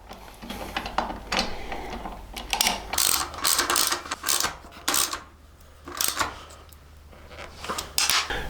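A ratchet clicks in quick, irregular bursts while hex head bolts are tightened on a motorcycle tail tidy for a 2021 CFMOTO 700 CL-X, with close metallic ticks and brief pauses between strokes.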